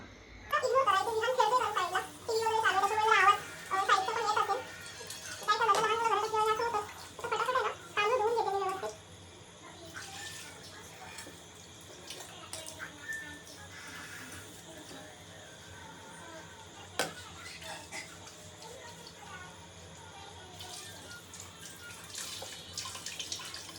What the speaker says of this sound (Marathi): मोजून दोन वाटी तांदूळ घेतलेत तर हे स्वच्छ आपण धुवून घेऊया अगोदर